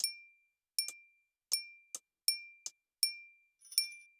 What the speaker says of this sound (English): We are going to use some glass hit sounds.